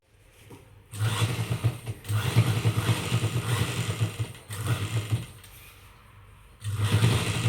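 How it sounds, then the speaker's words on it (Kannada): A sewing machine stitching a dress runs in loud, fast mechanical bursts of whirring and clatter, stopping and restarting several times with short quiet pauses between runs. "ಸ್ಟಿಚ್ ಮಾಡ್ತಾ ಇದ್ದೀನಿ ಆ್ಯಕ್ಚುಲಿ ಮಿಷಿನ್ ನೆನ್ನೆ ಕೆಟ್ಟೋಗಿತ್ತು"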